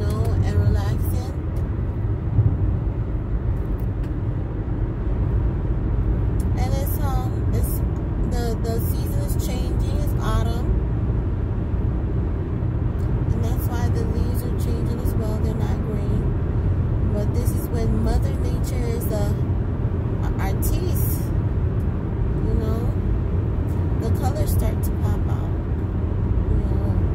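Steady, loud interior road rumble from a car cruising along, with a person talking over it for much of the time.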